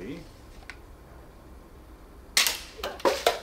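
A tiny micro bow shoots an arrow that strikes a can, giving a sharp close snap followed by a couple of quick metallic ticks and clatters near the end, after a quiet lead-in with a brief voice.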